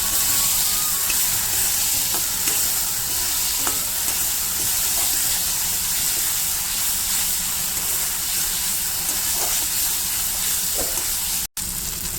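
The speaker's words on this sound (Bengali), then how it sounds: "আমি এর মধ্যে এবার ভেজে রাখা সে আলুটা দিয়ে দেবো আলুটা দিয়ে ভালো করে কষিয়ে নেবো একটু" Pre-fried potatoes being browned with spices in oil for a soybean curry give a loud, continuous frying hiss, with occasional spatula scrapes near the pan and a brief cut near the end.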